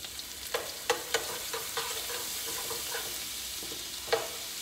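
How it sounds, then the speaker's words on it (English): Minced garlic sizzles softly in a frying pan, with a few sharp utensil clicks and scrapes from stirring over a low, steady frying hiss; fairly quiet overall. "So we're just stirring this around"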